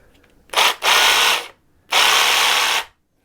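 A Parkside cordless reciprocating saw runs in two loud bursts, the first with a brief stutter at the start, each trigger pull cutting off abruptly and followed by quiet.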